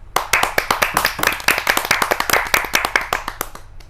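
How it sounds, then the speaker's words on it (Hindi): Audience clapping in welcome at a Hindi poetry gathering (kavi sammelan), a steady rhythmic run of sharp, close hand claps that carries on through the whole stretch without talk. "तो आइए ज़ोरदार तालियों से स्वागत करते हैं"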